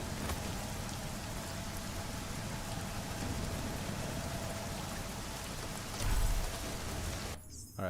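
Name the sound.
rain in video game Deus Ex: Mankind Divided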